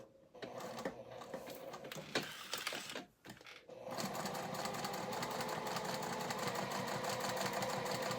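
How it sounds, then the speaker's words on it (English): A sewing machine runs steadily, stitching a seam around fabric for topstitching; after a brief stutter and pause the motor hum resumes continuously and fairly loud, close by, with no talk. "I'm just going to sew all the way around."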